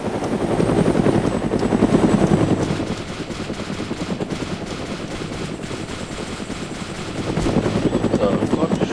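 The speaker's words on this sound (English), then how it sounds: "He's in the Chinook firing a gun out of the window." A Chinook helicopter's rotors thump steadily and loudly in the Arma 2 video game, while a gun fires from its window in bursts and players talk over it.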